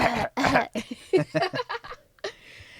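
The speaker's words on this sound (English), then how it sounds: "Let me clear my throat." Several rough coughs and throat-clearing noises in quick succession, followed by a few short voiced grunts and chuckles, close to the microphone.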